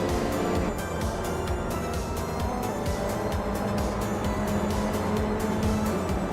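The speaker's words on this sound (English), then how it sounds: "Obstarks is driving a 2003 Peugeot 206." A 2003 Peugeot 206 touring race car in a racing video game drones steadily at high revs, a continuous loud engine roar with a faint rhythmic pulsing and no speech.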